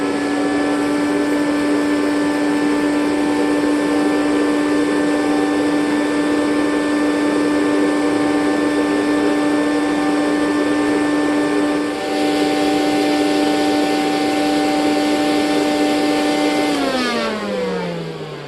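A Rainbow E2 Platinum water-filter vacuum cleaner runs with its hose attached, giving a loud, steady motor whine with strong harmonic tones that holds for most of the stretch, then drops in pitch as it starts to wind down near the end.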